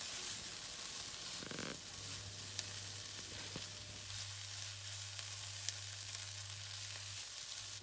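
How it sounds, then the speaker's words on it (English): Grated garlic sizzles steadily in a hot pan while being stirred for a vegetarian cauliflower and pea curry, a continuous moderate frying hiss with faint scraping, no talk. "You need to give it all a really good mix."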